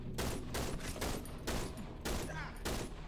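Pistol gunfire in a horror video game, about six sharp, loud shots in an uneven rhythm, each with a short echoing tail, close and dominant with a faint voice underneath.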